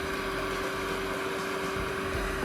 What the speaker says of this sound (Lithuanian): Ir pumpuoja vandenuką iš upės laistymui.